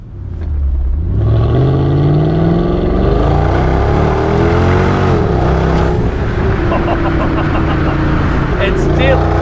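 A poorly maintained Mercedes-Benz CLS 55 AMG with a powerful, high-torque engine revs loudly, heard close through an open car window, its pitch climbing and falling through repeated throttle blips.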